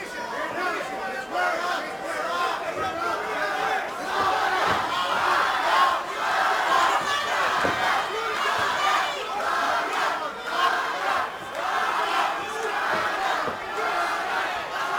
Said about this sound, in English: And they boo and jeer him here in Houston.